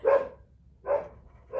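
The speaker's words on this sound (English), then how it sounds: "You can hear my dog barking, I'm sorry." A dog barks three times in a steady rhythm, fairly faint and a little distant, with quiet gaps between barks.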